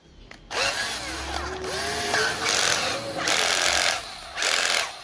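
A 12V cordless drill whirs in several bursts, boring into a wooden board with a rising whine and pauses between runs, close and fairly loud.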